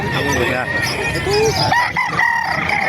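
Roosters crow and hens cluck at a busy poultry market in Calumpit, Bulacan, several birds overlapping close by, while people talk in the background.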